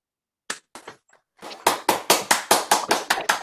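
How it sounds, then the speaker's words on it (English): Applause at a Summit Area YMCA talk builds from a few scattered claps into a steady, fairly close run of crisp hand claps. No talk is heard over it. "could we show some form of applause for Paul in his talk?"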